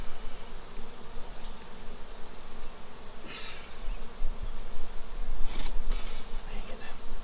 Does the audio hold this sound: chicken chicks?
no